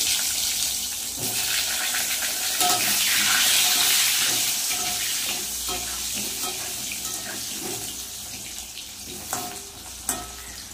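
Cut potatoes fry in hot oil with black cumin, giving a steady loud sizzle with occasional clatters and splashes of stirring throughout.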